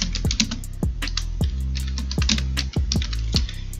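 Rapid keystrokes on a computer keyboard while laying out a birthday party flyer, a quick irregular run of close, crisp clicks alone with no talking.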